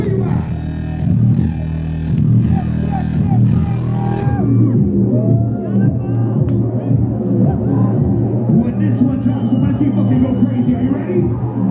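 A concert crowd at a club show at The Observatory roars with cheers and shouts, loud and close, while an amplified voice calls out over the noise and the din carries on throughout.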